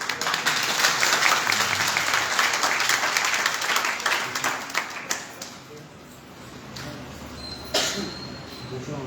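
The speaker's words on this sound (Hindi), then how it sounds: "एक बार सब मिलकर जोर से ताली से करें।" An audience at a Shrimad Bhagwat Katha devotional gathering claps together in sustained, dense applause that thins and fades out partway, then a brief burst returns near the end.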